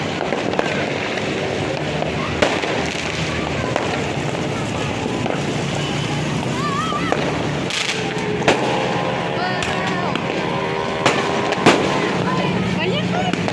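New Year's Eve 2023 fireworks bursting outdoors with repeated pops, bangs and crackles, some whistling rockets, over a steady noisy background, while people talk nearby.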